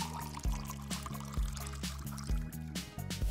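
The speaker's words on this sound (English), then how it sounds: "Pour in water" Water pours into a small round DIY fish tank with decor inside, a steady liquid fill running under a louder rhythmic music track.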